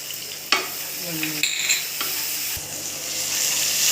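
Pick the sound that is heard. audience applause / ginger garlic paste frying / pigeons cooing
ginger garlic paste frying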